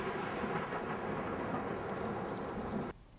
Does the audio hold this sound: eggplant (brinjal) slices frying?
no